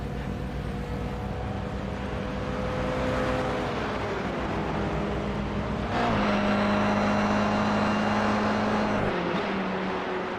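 Racing touring cars thunder down a start-finish straight in a club-level tin-top race, engines droning loud and steady with rising and falling pitch as several cars pass close by, one strong pass around the midpoint.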